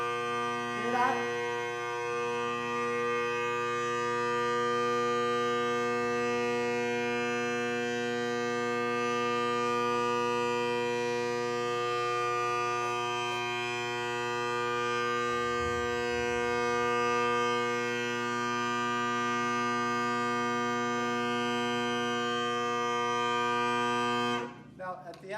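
Bagpipe drones sound as a steady, sustained harmonic chord, holding for a long stretch and then cutting off near the end, with the pitch wavering slightly as blowing pressure sags, and no voice over it.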